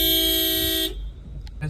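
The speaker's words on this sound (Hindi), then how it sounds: "इस गाड़ी में बच्चा बैठा हुआ था जो हॉर्न मार रहा था" A child sitting in a parked car leans on the horn, giving one loud, sustained blast of nearly a second before it cuts off, leaving faint road noise and a short faint beep.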